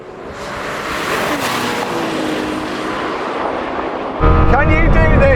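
A Lamborghini Temerario and a Ferrari 296 roar down a drag strip, a loud continuous engine wail with rising pitch that swells sharply near the end as the cars close in, up close.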